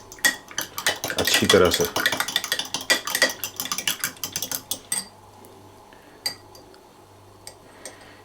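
A spoon clatters and scrapes against a jar while stirring tomato seeds soaking in liquid: rapid, busy clinking at first, then fading to a few isolated taps, with a voice speaking briefly over it.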